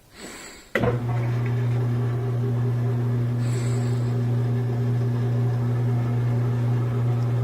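A Maytag washing machine spins after a click, settling into a steady loud hum with a low motor drone that holds evenly throughout.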